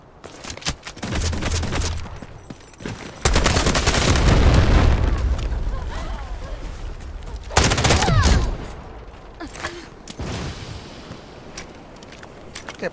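Rapid gunfire in the video game Delta Force, with bursts of automatic shots and booming impacts coming in loud clusters across the clip, alongside quieter stretches of movement and footsteps.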